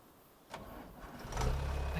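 A tractor engine in Farming Simulator 25 cranks and catches, then settles into a loud, close, steady low rumble with no talking.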